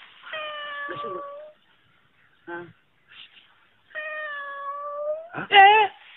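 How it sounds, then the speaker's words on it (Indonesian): Several drawn-out, wavering kitten meows come close by, separated by short pauses, with a few faint scuffs and small noises between them. "Ada kucing."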